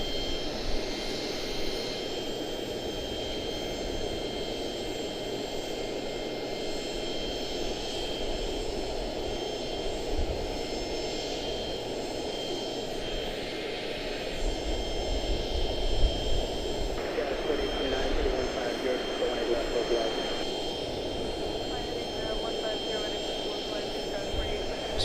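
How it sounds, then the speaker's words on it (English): A jet airliner taxis at Charlotte-Douglas International Airport, its engines a steady distant whine and rumble over outdoor background noise, with a brief rise in the middle. "731 taxiing around."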